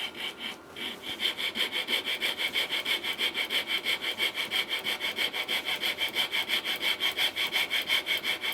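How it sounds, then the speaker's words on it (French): A hand saw cuts through wood in quick, regular back-and-forth strokes, close and steady, with a rasping rhythm that continues throughout. "je vais scier sur le trait pour voir si je suis assez précis avec cette scie"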